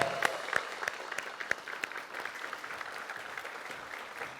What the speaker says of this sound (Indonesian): kita beri tepuk tangan yang meriah untuk Farhad Abbas.